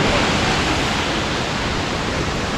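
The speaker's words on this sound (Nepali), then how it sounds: "पानी परिरहेछ" Steady, loud rain pours down outdoors near a tall waterfall at Charnawoti in Dolakha, a dense unbroken hiss that holds evenly throughout with no pauses.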